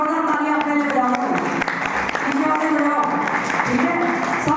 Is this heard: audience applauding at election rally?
yes